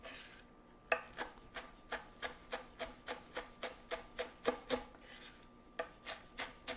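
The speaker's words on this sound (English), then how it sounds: "You're just kind of rough chopping these a little bit." A knife rough-chops spring onions on a cutting board in a steady run of about twenty crisp, evenly spaced taps, close and clear, with a brief pause near the end and no talk.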